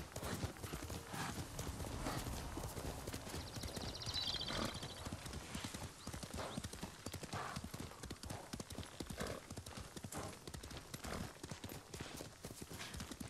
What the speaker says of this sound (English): This horse has some ridiculous stamina.